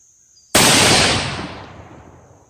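A single rifle shot fired during a scope tracking test with a Leupold LRP 8.5-25 scope: one sharp, loud crack from near silence, followed by a long fading rumble and echo over open ground.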